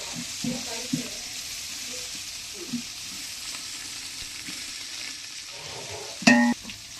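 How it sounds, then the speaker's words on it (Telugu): Mixed ingredients with fresh coriander frying in a pan for a maize snack, a continuous soft sizzle close by with a few scraping stirs and a sharper clatter near the end. "కొత్తిమీర కూడా వేసి బాగా కలుపుకోవాలి ఇప్పుడు మొత్తం ఐటమ్స్ అన్నీ బాగా వేగాయి"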